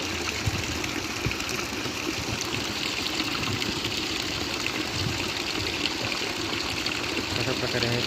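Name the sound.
water flowing out of a hand pump by itself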